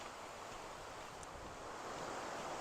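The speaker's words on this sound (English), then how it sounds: "you could already hear the sounds of the waterfall" A waterfall in the Columbia River Gorge, Oregon, sends up a steady broadband rush of falling water that carries on evenly and fairly loud throughout, with no voices.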